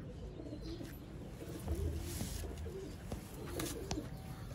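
Sialkoti rooftop pigeons coo softly and repeatedly, low throaty calls over faint outdoor background noise.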